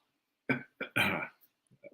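A person coughs into the elbow: a short muffled burst followed by a longer rough, throaty cough, close and fairly loud, with a faint shuffle and small noises trailing after.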